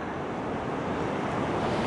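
Ocean surf at a beach lookout between Burleigh and Mermaid Beach, a constant broad roar of breaking waves mixed with wind buffeting the microphone, steady and close, with no voices.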